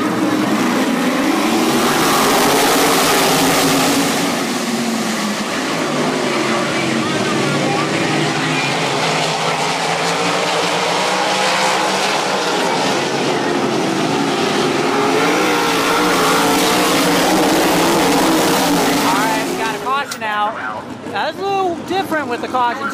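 Eight sprint cars race ten laps at Albany Saratoga Speedway, their engines making a loud, continuous, blaring roar that swells and fades as the pack passes, with a commentator's voice over the din.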